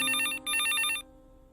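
A phone ringtone plays in two loud bursts of a bright electronic tone with a brief gap between them, then cuts off into quiet room tone.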